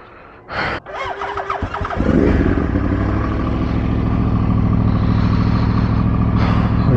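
A Yamaha R1 sportbike clatters briefly, then its engine fires up about two seconds in and settles into a loud, steady, close idle that continues to the end.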